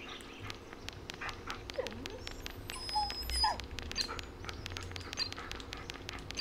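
A dog in the forest horror video game Blair Witch whimpers impatiently, a few faint, brief whines over quiet outdoor ambience with light chirps.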